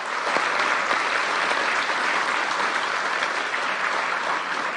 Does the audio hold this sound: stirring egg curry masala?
no